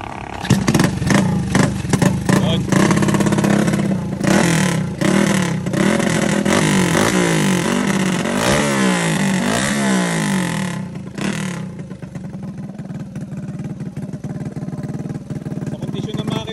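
A 147cc trail bike built for drag racing, fitted with a 14-tooth front and 38-tooth rear sprocket, revs hard in repeated throttle blips and rising sweeps, close and loud, then settles to a rough idle while people talk nearby.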